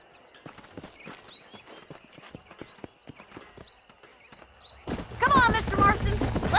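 Horses' hooves clip-clop in an even walking rhythm in Red Dead Redemption near Armadillo, distinct close hoofbeats over a quiet background, then a louder burst of sound and a voice over the steps toward the end.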